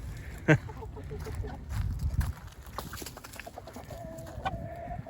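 Free-ranging chickens and roosters cluck and call nearby, with one sharp loud squawk early on and a rooster's drawn-out crow near the end, over low outdoor rumble.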